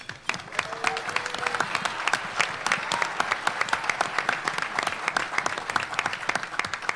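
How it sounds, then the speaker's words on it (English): An audience claps steadily for several seconds, many hands together making a sustained, even round of applause. "I would like to give Elaine Stafford a huge round of applause and thanks"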